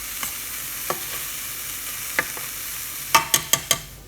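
Onions and grated carrots frying in a pan as a soup base, a soft steady sizzle with a few spoon scrapes and stirring clacks, clustered near the end.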